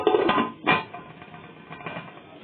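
A metal lid set onto a pot of boiling soup, two clattering clinks close by followed by a softer settling rattle, no talk.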